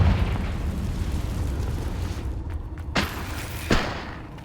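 Confringo fire spell blast in the game Hogwarts Legacy, a deep rumbling explosion fading out, then two sharp bursts or impacts cracking through near the end.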